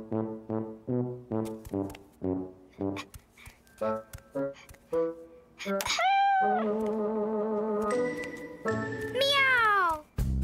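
A cartoon cat meows several times in a children's cartoon, with long rising and falling cries standing out after a stretch of short, bright, tinkly tones.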